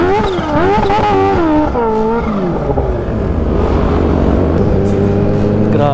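Group of sport motorcycles, a supercharged Kawasaki H2 among Yamaha R1s and a ZX-10R, roaring past at close range, engines revving and pitch sweeping continuously, loud throughout with no talking.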